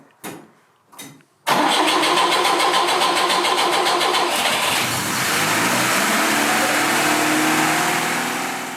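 A Lada Niva engine, brought out of winter storage with a starting problem, cranks in two short bursts, then catches and roars into a loud, steady idle that settles slightly lower and continues close up without talk.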